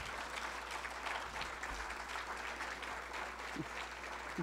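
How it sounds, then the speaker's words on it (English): An audience at a history talk applauds, a continuous room-filling patter of many hands clapping at steady volume for the full stretch, with a faint voice briefly audible near the end. "give Deb a round of applause for putting up with me for so long."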